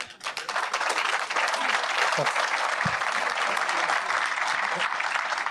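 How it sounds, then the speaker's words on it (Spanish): An audience at a business-federation debate among candidates claps in a loud, sustained burst that fills the whole stretch, with a few isolated voices poking through. "yo entiendo que se aplauda"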